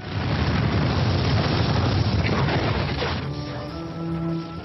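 A massive explosion as a house near the Edinburgh city walls is blown up at night: a loud, rumbling blast roars for about three seconds, then tails off into a lower, fading rumble with faint tones.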